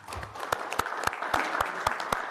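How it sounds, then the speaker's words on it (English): A brief round of applause from the attendees of an advisory board meeting, steady and moderately loud throughout with no break, close-sounding and continuous. "I think a round of applause is in order."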